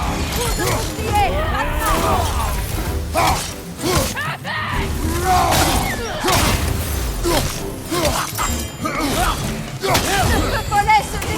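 Shield bash impacts and combat effects in God of War Ragnarök: repeated heavy thuds and crashes mixed with whooshes and grunting voices, loud and busy throughout.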